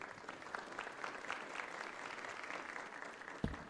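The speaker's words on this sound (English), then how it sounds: "Can give that a round of applause." An audience applauds at a learner-leadership summit in Johannesburg, a steady, moderately distant wash of clapping that holds evenly throughout with one sharper clap near the end.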